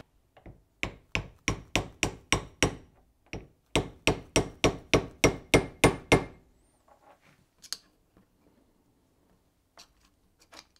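A hammer taps sharply in two quick runs of evenly spaced strikes, about a dozen in all, followed by a few faint scattered knocks.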